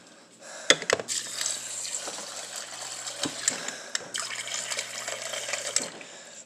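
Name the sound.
water being poured to crush a can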